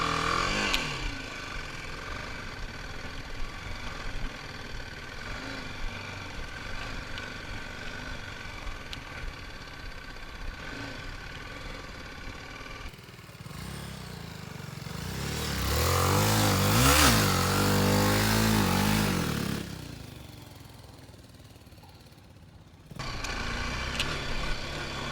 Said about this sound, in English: So we're on a gravel track, which is what I really wanted to test this bike out on.